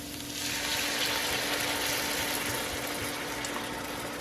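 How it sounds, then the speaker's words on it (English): A continuous sizzling hiss of Merlot red wine hitting a hot pan for Bolognese sauce, starting abruptly and holding steady, close by. "You can hear that sizzle."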